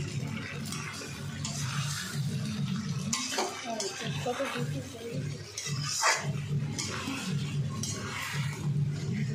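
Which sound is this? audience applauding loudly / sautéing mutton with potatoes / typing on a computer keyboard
sautéing mutton with potatoes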